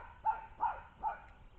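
A small dog among bigger dogs at a dog park gives three quick, sharp barks spaced evenly, fairly close but not loud, with no talk over them.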